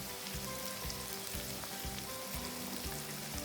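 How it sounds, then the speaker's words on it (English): Onions and black pepper frying in a pan, a steady close sizzle and crackle with a constant low hum beneath, unbroken and even throughout. "We'll fry the onions until they are translucent."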